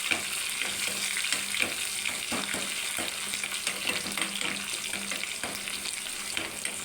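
Ginger, garlic and curry leaves temper in hot oil for a beetroot gravy, a steady close crackling sizzle with occasional scraping stirs.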